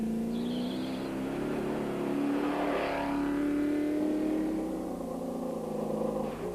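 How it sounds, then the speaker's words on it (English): Big V8 engine of a Land Rover racing off-road in the 1996 Baberspan 500, a steady loud drone with rising revs, close and continuous for the whole stretch, no talk. "Malcolm Joubert in the SVM Land Rover, with the big V8 motor sounding healthy"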